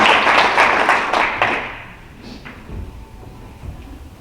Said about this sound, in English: So I think that deserves a round of applause for Don and Bruce and Riley.